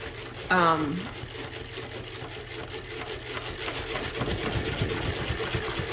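A Mannan chain stitch machine sewing a 3-thread raised stitch gives a low, steady mechanical hum through most of the stretch, fairly faint, with a brief squeak near the start and some rustling handling.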